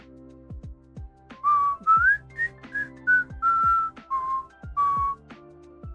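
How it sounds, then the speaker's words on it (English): A person whistles a short melody of about ten clear, sustained notes at varying pitch, loud and close, with faint low tones underneath. "I apologize, I shouldn't whistle."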